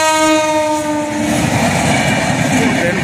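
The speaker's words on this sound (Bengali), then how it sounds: "আরেকটা ট্রেন আসবে, চলো আসুক তারপর গেট খুলবে" A train rolls past a village level crossing, its horn sounding in long steady tones over loud, continuous rumbling and clatter of wagons close by.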